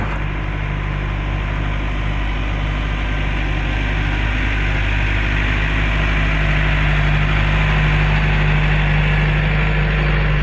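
Steady engine hum of a Claas Arion mid-power farm tractor, idling loud and close for the whole stretch with a constant low drone and no voices.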